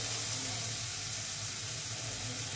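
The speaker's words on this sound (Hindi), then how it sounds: "देखिए हमारे मसाले भी अच्छे से फ्राई हो जाएंगे और हमारा टमाटर भी गल जाएगा" Spices, onion and tomato for aloo gobhi fry in a pan with a steady, even hiss and sizzle that carries on unbroken, close and fairly quiet.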